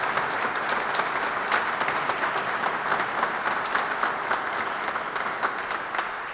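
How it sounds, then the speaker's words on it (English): Sustained audience applause at a Kentucky roadshow event, a steady wash of many hands clapping at even strength throughout. "Let's give them a round of applause for everything they do."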